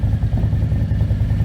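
A 2020 Harley-Davidson Street Glide fitted with a 131 crate motor idles close by, a loud, steady low rumble with a lumpy, pulsing beat.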